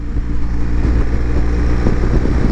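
A motorcycle fitted with a BoosterPlug, ridden in road mode on a greasy road, has its engine droning close and loud throughout as the throttle opens from closed to on, with a steady low rumble and no break.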